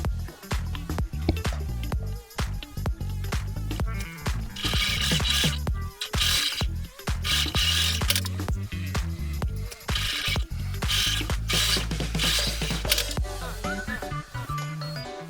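Sewing machine stitching the side seams of an unlined drawstring lunch bag with 1 cm seam allowance, a steady mechanical whir and clatter of the needle running continuously with brief pauses, close and moderately loud.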